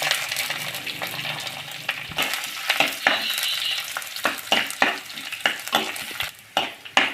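Ginger and garlic frying in hot oil for a Kerala fish curry, a steady close sizzle with frequent sharp scrapes and clinks of a spoon stirring the pan, no talk.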